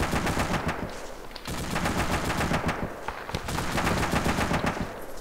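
Jeep-mounted machine gun fire in Arma 2 rattles out in long, rapid bursts, loud and close, with brief pauses between strings of shots and no talk over it.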